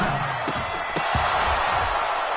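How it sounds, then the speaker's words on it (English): Football stadium crowd cheering during a goal-line play, a broad roar with a few sharp bangs and whoops mixed in. "You can already start to hear this crowd."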